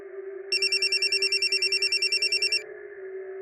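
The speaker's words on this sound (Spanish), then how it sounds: "Me disculpé para atender mi teléfono. Salí de su casa y apagué la alarma" Phone alarm ringing indoors, a rapid electronic trill of about sixteen even beeps over two seconds, loud and close above a steady low hum, then cutting off abruptly.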